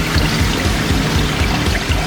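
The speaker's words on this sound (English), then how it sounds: "we're having the water" Steady water flowing from a shower fed by a pump in a Land Rover Defender overlander camper's water system, a close, continuous rushing pour with no voices.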